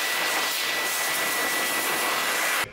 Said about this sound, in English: I didn't know the vehicle blower had been turned on when I first switched it on.